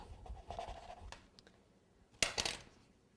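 Fondant being cut out for Easter cookie decorating, with soft scraping, cutting strokes and a short burst of clicks and taps near the end, quiet and close with no talking.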